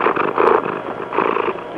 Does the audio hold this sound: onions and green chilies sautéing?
no